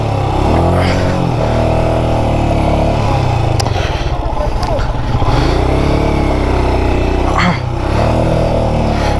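Royal Enfield Himalayan motorcycle stuck on a hill station slope, engine revving loudly and close with rising and falling pitch, joined by people talking over it.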